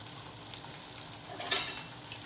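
Beer battered halibut fillets frying in hot oil, a soft continuous sizzle and crackle, close and fairly quiet, with a brief brighter spatter partway through and no talking.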